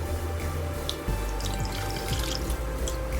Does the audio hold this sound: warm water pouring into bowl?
yes